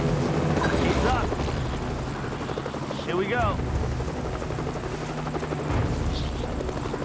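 A helicopter hovers low over water, its rotor roar loud and continuous throughout, with people talking over it.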